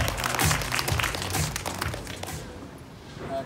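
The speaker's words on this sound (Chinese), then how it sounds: "热情掌声" A press-conference audience applauds at the launch of an all-star esports goddess show, with loud, dense clapping up front that thins out and fades toward the end.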